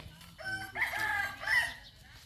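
A rooster crows once at a rural Thai farm, a loud, close, drawn-out cock-a-doodle-doo with rising and falling harmonic tones over a faint low background rumble.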